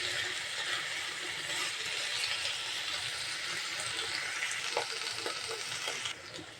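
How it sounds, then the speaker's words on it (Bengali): Bottle gourd peels fry in oil in a pan, giving a soft, steady sizzle and crackle with an occasional light scrape of stirring. "তেল দিয়ে লাইয়ের ছোবলাগুলা আমি একটু ভাজা ভাজা করে নেব।"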